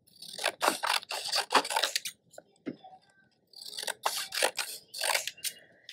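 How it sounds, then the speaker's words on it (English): Scissors slice long strips of black paper for a bee print craft, heard as close, crisp snipping bursts in two runs separated by a short quiet pause with a few small clicks. "You're going to take your scissors, and we're going to be cutting just strips for the stripes."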